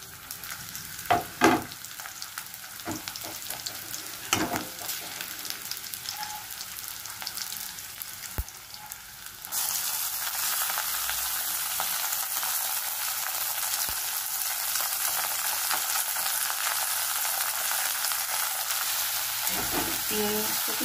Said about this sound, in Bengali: চিংড়ি মাছটাকে একটু নাড়বো বন্ধুরা।